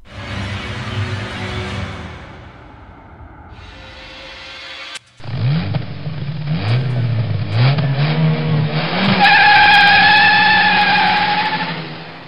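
A red ice cream cart revs its engine loudly and close by, cuts out abruptly, then roars and whines through rising and falling pitch sweeps, ending with a high screeching brake skid before fading.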